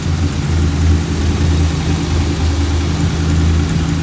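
Car engine idling right after a ported intake manifold and 84mm throttle body install, a loud, close, steady low rumble with slight unevenness and no talking.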